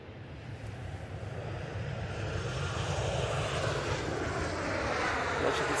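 An EasyJet airliner lands at Manchester Airport, its engine roar building from a steady rumble into a louder, broad whoosh as it nears the runway, with no voices.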